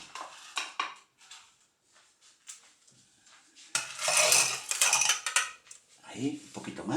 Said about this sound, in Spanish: Ahora le vamos a echar hielo picado.